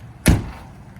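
The rear entrance door of a 2014 GMC Savana 3500 McCoy Miller Type III ambulance swings shut with a single close, heavy thud, and a short resonant tail follows.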